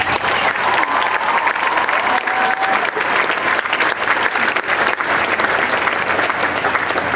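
An audience claps and cheers loudly and continuously for the whole stretch, dense applause from a large crowd at a ceremony honoring wounded service members.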